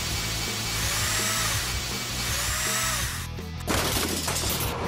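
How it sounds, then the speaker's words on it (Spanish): A whirring power tool runs with rising and falling pitch, then a harsh crunching burst near the end, fairly faint overall. "Un taladro."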